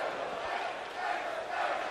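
Dense roar of a large arena crowd at a Counter-Strike esports major semifinal in London, a sustained swelling cheer filling the whole moment.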